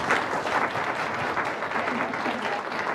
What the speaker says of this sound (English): Big round of applause for our panellists,